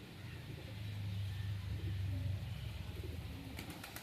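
Pigeons of fancy breeds, including crested and Roman types, coo softly in a loft with a low, rolling murmur, mid-distance, over steady background noise, with a few sharp chirps near the end.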